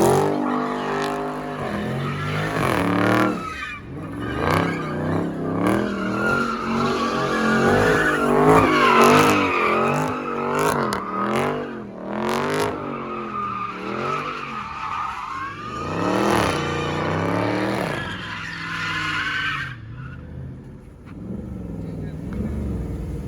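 A car spinning and skidding at a car meet, with continuous screeching tire squeal and a revving engine rising and falling under loud crowd talk, close and dense throughout.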